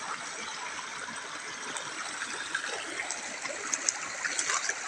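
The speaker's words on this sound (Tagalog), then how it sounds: "may madadaanan ka dito medyo maliit na sapa. Pero malinis yung tubig." A small, clean mountain creek flows in a steady, close trickle and babble of water, with faint brighter splashes and no talk over it.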